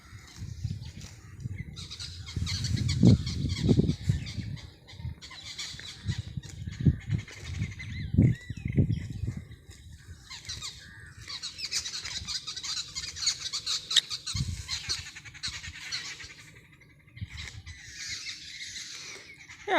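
Peacocks call across a village field, with loud squawking bursts up close early on, then repeated fainter, higher cries scattered through the rest with no talk.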